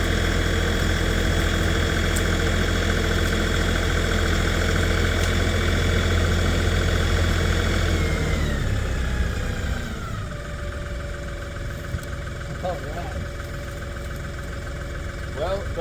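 A tractor engine idles steadily with a homemade hydraulic skidding winch pulling an elm top, a constant low mechanical drone that drops in pitch around the midpoint and settles into a quieter hum.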